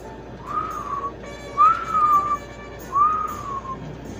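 Three warbling whistle tones, each roughly half a second long, sound one after another with short gaps over a steady background hiss, blown through the built-in whistle of a toy raptor.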